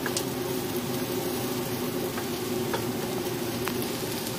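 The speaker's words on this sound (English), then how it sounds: "I'm going to go ahead and add my garlic. I've got 2 minced garlic cloves right here. And I'm just going to stir them around for about 1 minute." Two minced garlic cloves, with onions, sizzle steadily in a hot pan while being stirred for a classic Salisbury steak. A loud, continuous frying hiss carries faint scraping of the stir, with no talking.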